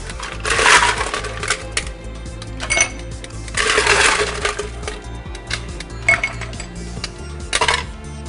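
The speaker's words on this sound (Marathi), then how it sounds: "त्यासोबत पहिला आपण शेकरमध्ये थोडं आईस टाकणार" Ice cubes tumble into a cocktail shaker while a spiced mocktail is being mixed, giving several bright clattering bursts of hard cubes striking the shaker, close and fairly loud, with short pauses between drops.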